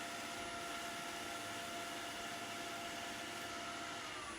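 A wood lathe spins steadily during pen turning, running up to apply a finish with wet and dry tissue, giving a constant, even motor whine and hum that stays unchanged and close for the whole stretch without any speech.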